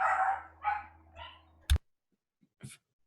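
A dog gives a few short barks and yips indoors, fairly close, followed by a sharp knock and a brief final yelp, with no talking.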